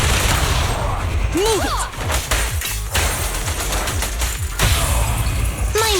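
Continuous heavy gunfire from the video game Zenless Zone Zero, loud and sustained automatic bursts with a voice shouting over the shooting.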